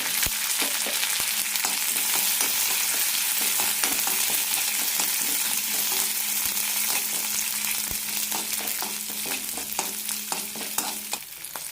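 Urad dal, chana dal, chopped curry leaves and green chili fry in hot oil as a tempering for onion chutney, giving a steady, close, dense sizzle with small crackles and pops throughout and no talking.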